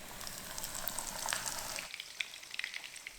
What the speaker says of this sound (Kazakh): Ортасын кесіп қойыңыз және қыздырылған майға табайға салыңыз.